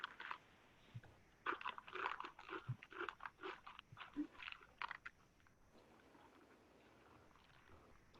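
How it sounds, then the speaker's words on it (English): Someone crunching chips close to an open microphone during an online meeting, a quick run of crisp, irregular crunches and bites that taper off into quiet room noise. "We can hear someone crunching away at some delicious something."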